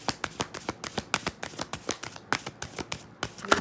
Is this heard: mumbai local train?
no